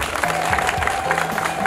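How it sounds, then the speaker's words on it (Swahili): A crowd at an outdoor public gathering about bringing electricity to small-scale miners claps in a brief, dense burst of applause that runs the whole moment, with a faint voice mixed underneath. "Mpigie makofi serikali yetu."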